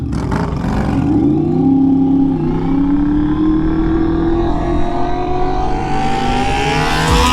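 Honda VFR750F Interceptor sport motorcycle engine revving hard and close, a loud steady roar whose pitch climbs and dips across the clip, heard from the rider's position while waiting at a light.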